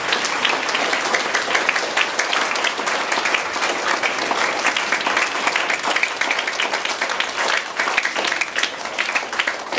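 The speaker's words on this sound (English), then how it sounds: "we'll give a big round of applause to all of them" A parish audience at a school Christmas wreath play gives a big round of applause, dense and steady clapping that carries on for about ten seconds without talk.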